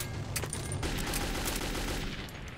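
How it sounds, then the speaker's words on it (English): Gunfire in the video game Metro 2033: a sustained burst of rapid shots runs the whole time, dense and steady at moderate loudness, with no talking. "What are you shooting at?"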